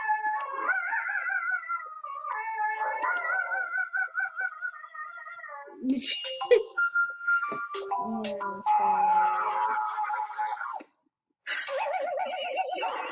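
A dog howls and yowls in long wavering, pitch-sliding bursts, loud and close, with brief pauses and a few sharper yelps midway; no one talks over it.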